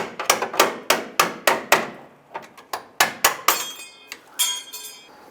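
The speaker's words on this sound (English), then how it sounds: "We're going to use our pry bar here." A pry bar works a retaining clip for the license plate light off the rear bumper of a 2002-2008 Dodge Ram 1500. Close, sharp metallic clicks and taps come in a rapid, uneven series, with no talking.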